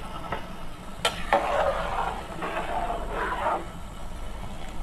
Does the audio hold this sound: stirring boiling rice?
yes